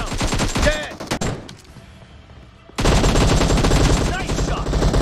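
Rapid automatic gunfire from the battle royale game PUBG, loud dense bursts of shots with a short quieter gap before another sustained volley.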